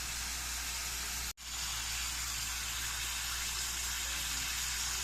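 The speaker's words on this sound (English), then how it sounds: "I'm gonna brown all the sides before I slow cook it" Meat browning in chile oil with onion and garlic pieces, a steady, close sizzle and hiss that runs continuously, broken once by a momentary drop to silence before resuming.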